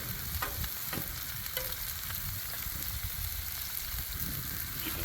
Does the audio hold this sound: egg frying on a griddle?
yes